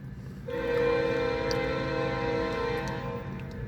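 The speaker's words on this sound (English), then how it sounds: "via train 78's now departing Ingersoll Station. Yeah, listen to the horns." VIA Rail train 78 departing Ingersoll Station sounds a sustained chord horn blast lasting about three seconds, loud and near, over a low rumbling train background.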